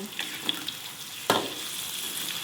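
Tofu frying in oil, a soft steady sizzle with faint spattering and a sharp clatter partway through, heard alone with no talk.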